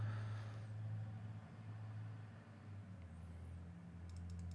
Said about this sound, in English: can you hear the car outside?